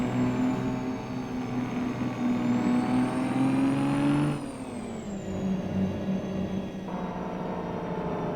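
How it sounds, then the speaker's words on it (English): A custom Peterbilt truck in American Truck Simulator runs its engine brake, a loud steady low drone that rises in pitch and then drops sharply as the revs fall, close and continuous, with no talk. "Well, the engine brake sounds better."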